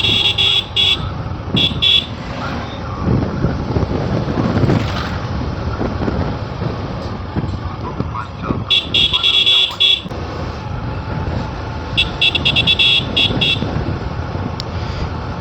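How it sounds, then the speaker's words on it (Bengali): A motorcycle rigged to pump out mosquito-repellent smoke runs on an empty road during a festival night, its steady engine drone close and loud, broken by repeated high beeping horn-like tones, with voices talking over it. "কাকার বাইক দিয়ে মশা মারার জন্য ধোঁয়া বেরোচ্ছে।"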